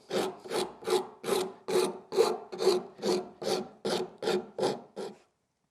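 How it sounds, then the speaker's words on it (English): A rasp scrapes across wood in about a dozen even, rhythmic strokes, loud and close, then stops. "the rasp does work pretty fast"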